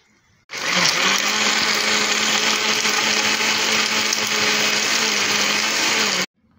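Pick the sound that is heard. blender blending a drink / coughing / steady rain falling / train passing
blender blending a drink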